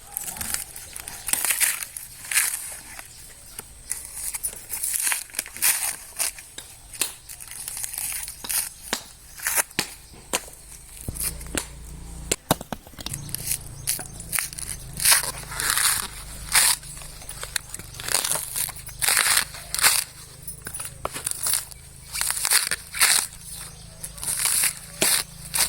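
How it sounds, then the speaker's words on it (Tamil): A coconut being dehusked by hand, a long stretch of irregular crackling, tearing and crunching fibre sounds close by in uneven bursts, with a low rumble joining partway through. "இதில் தான் தேங்காய் உரிக்க போகிறோம்."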